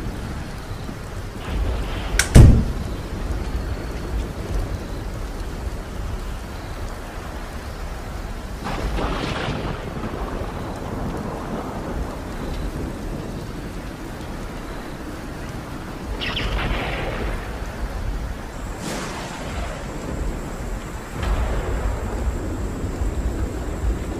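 Heavy rain pouring steadily and loudly outdoors, a dense continuous hiss with a sharp crack early on and a few brief swells of wind and rumble scattered through.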